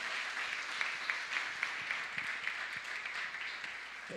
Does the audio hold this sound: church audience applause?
yes